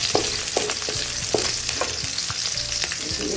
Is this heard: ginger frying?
yes